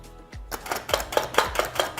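Onions are chopped in a kitchen chopper gadget, a quick series of about seven sharp, close clacks and thuds in a regular pumping rhythm, with no voices.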